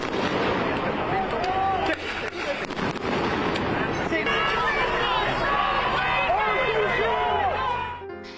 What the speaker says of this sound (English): hundreds of police used flashbang grenades, rubber bullets, and tear gas in a face-off with protesters